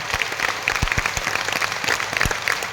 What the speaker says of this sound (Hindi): एक बार जोरदार ताली बजा के पूज्य महाराज जी को धन्यवाद दें।